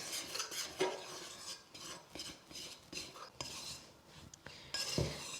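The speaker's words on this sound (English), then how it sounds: "I tend to use a round bladed knife to bring it all together. So give it a good mix until it comes to like a shaggy dough." A round-bladed knife scrapes and stirs flour into a shaggy dough for a chocolate and hazelnut bake, quiet scraping and tapping strokes against a bowl in an irregular rhythm, with no talking.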